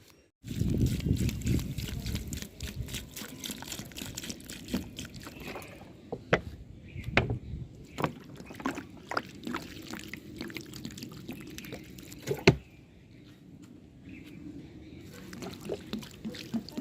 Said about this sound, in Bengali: চল গাছে জলটা দিয়ে নিই।